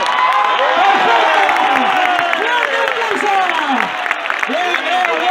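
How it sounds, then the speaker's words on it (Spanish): A bullfight crowd claps and cheers, many voices whooping and shouting over a loud, continuous roar of the arena audience. "Vamos a animar con palmas porque ahí está Grego recibiendo fuerte a Gallola"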